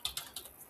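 Two or three quick clicks of keys being typed on a computer keyboard, close and crisp, with no voices.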